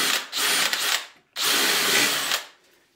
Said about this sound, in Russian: нам нужно просверлить отверстие в стене